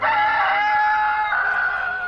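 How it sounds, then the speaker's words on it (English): A red rooster crows loudly and close, a single drawn-out, strained cock-a-doodle-doo filling the whole moment with no other sound. "Sitting on the fence was a red rooster who ruffled his feathers and nervously crowed as loudly"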